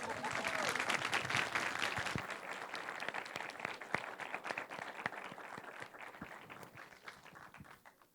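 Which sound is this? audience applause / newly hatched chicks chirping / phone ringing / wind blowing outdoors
audience applause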